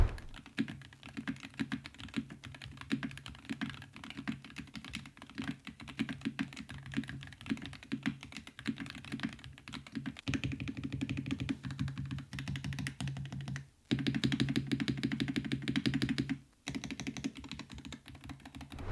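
Rapid, continuous typing on a Wooting Hall effect mechanical keyboard with Lekker V2 switches, close up, with crisp clacky keystrokes that grow louder and denser partway through, broken by a couple of brief pauses.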